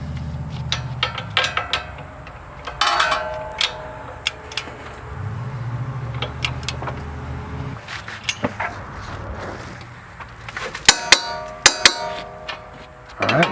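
Ford Mustang S197 front strut bolts being worked with a wrench, a scatter of sharp metallic clicks and clanks over a low rumble, close by and with no speech.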